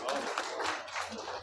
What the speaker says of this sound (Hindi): अल्लाह की रहमत से आप अपने हौसले को बढ़ाने के लिए अपने लिए तालियां बजाएं।